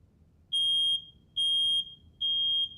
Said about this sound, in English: At 26 seconds, smoke activates the smoke alarm.